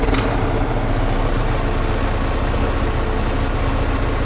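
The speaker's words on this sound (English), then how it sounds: "And then what we'll do is start the vehicle." A dump truck diesel engine runs steadily at close range during a pre-trip inspection, a loud, continuous low rumble with a brief crank-like burst at the start and no talking.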